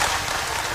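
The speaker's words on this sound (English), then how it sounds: "Listen to this crowd." Basketball crowd at a Coffee County girls' game roaring and applauding steadily during a timeout, a dense, loud wash of cheering and clapping throughout.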